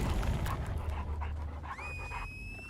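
A killer's dog pants heavily in a video game, rapid rhythmic breaths close and steady throughout, with a brief rising whine-like tone near the end.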